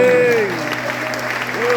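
Church congregation clapping after a call to applaud, a dense steady patter of many hands with a sustained music tone running underneath.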